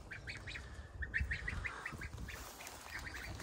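Geese and goslings calling on a village farmyard in June, a run of short repeated honking calls at mid distance over a steady outdoor background.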